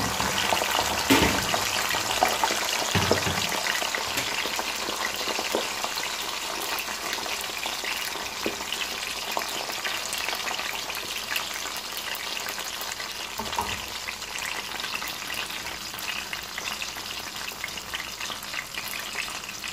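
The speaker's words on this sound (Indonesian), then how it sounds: "ini minyaknya udah panas. Sekarang aku mau ngegoreng kentangnya ya." Potatoes frying in hot oil give a steady, loud, continuous sizzle and crackle that holds evenly throughout, with a couple of brief bumps near the start as they go in.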